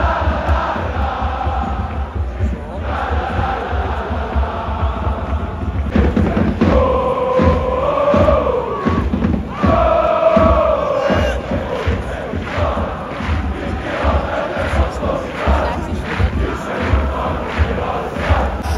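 Massed away supporters of FC Basel chant in a packed stadium during a Zurich–Basel derby, a loud continuous roar of voices with rising and falling sung phrases and no single speaker standing out.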